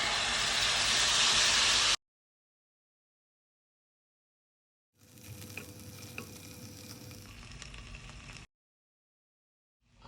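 Chicken pieces sizzle loudly on a pan greased with olive oil and lined with onion slices, heard in two bursts of harsh, hissing frying separated by silence.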